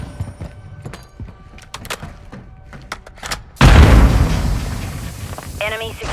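A heavy cruise missile explosion erupts with a deep booming blast in the Modern Warfare II video game Domination match at Mercado Las Almas, loud and rumbling after scattered gunfire and game sounds, with a voice coming in near the end.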